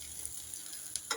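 Dahi vada (bade) frying in oil in a pan gives a brief, fairly faint, steady hiss with a couple of small crackles, and no voices.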